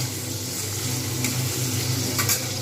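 Ridge gourd and potato pieces frying and being stirred in a pan, a steady close sizzle with scraping of the spatula throughout and a couple of brief clinks.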